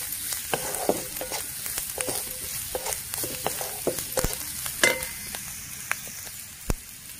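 A spoon stirs homemade black chili powder and red chili through a hot pan, making irregular close clicks and scrapes over a low, steady sizzle.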